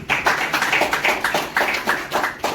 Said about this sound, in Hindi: सिंघला जी के लिए बहुत सारी तालियां।